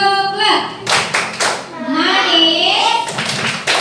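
A group of children doing the 'tepuk coklat' clap chant, with rhythmic bursts of hand clapping mixed with chanting voices, loud and close.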